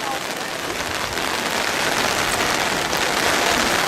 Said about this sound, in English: Have you ever seen rain like this in Kin-Kin?